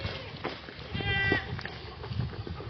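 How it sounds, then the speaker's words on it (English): Goats on a farm bleat a few times at close range, one clear wavering call standing out over quiet outdoor background noise. "Hey, mama goats."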